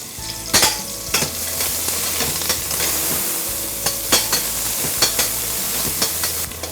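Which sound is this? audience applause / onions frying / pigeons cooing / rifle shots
onions frying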